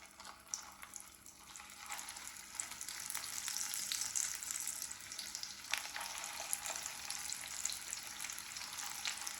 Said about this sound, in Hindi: हल्की आंच पे इनको फ्राई करना है हमने।